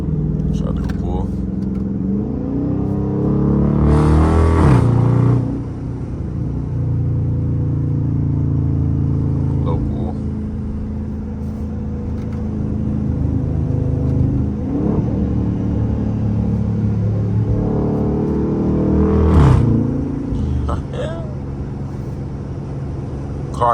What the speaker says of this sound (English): Car definitely stays louder now after I pulled that fuse.